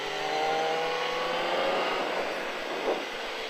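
Motorcycle circling the race track at Le Vigeant during a riding course, its engine a steady droning whine at middle distance that holds for the whole stretch with slowly shifting pitch.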